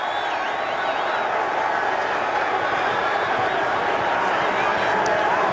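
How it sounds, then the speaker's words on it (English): Stadium crowd cheering an interception at a Browns–Bengals NFL football game in Cincinnati, a steady, dense roar of distant fans filling the clip throughout without breaks. "You hear a lot of cheering."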